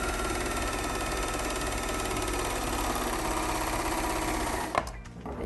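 Singer 14SH754 overlocker running fast while stitching and trimming the frayed edge of woven fabric, a rapid, even mechanical chatter that stops abruptly near the end.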